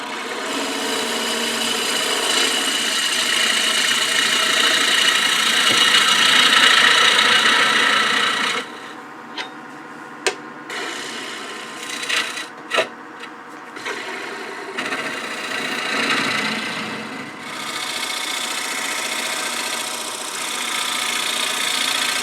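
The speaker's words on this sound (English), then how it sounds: "I'm going to use this bottom feeder bowl gouge. See if I can't get a little smoother cut down there." Wood lathe turning a winged bowl while a bottom feeder bowl gouge cuts, a loud continuous rasping hiss for several seconds, then intermittent scraping strokes and brief pauses before steady cutting resumes.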